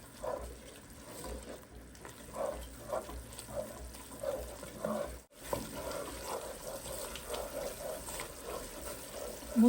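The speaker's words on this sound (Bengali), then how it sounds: "মশলাটা এখন আমি ভালো করে কষিয়ে নিব।" Blended spice paste thinned with water is stir-fried in a pan, giving a quiet, wet, bubbling sizzle with soft rhythmic swishes from the stirring.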